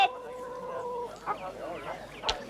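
Hens cluck and squawk at a livestock auction in 1970s rural Sweden. Short, scattered calls sit at moderate distance under a background murmur, with one sharp squawk near the end.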